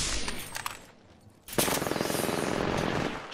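Automatic gunfire in Apex Legends, a burst of rapid shots, a brief lull, then a sustained loud stream of rattling fire lasting to the end.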